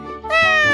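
A cartoon cat gives one short, close, bright meow that rises quickly and then holds.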